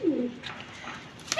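A flying pigeon of the Cheena breed in a loft gives one short, low coo at the start, followed by faint rustling and a light click.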